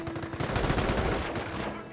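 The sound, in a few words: machine gun fire in the video game Company of Heroes Mobile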